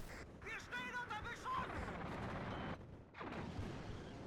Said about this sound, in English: on that third salvo, the ZU gun was gonna perma-stun him and then kill him